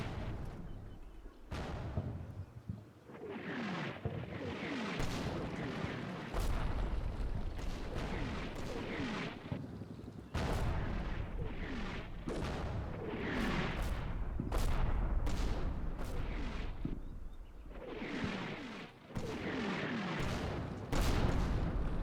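Repeated enemy artillery strikes in a US Marine combat simulator game thunder in a dense, overlapping series of booms and blasts, heavy and continuous across the whole stretch, with no talking.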